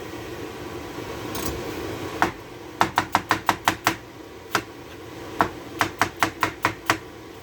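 A knife julienning onions on a cutting board, sharp close chops in two quick rhythmic bursts of about eight strokes each, preceded by a few scattered taps, with no talk.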